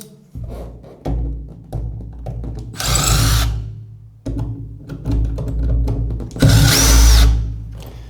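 A power drill backs out door handle screws in two close, loud bursts of whirring, each preceded by clicks and handling knocks on the door hardware.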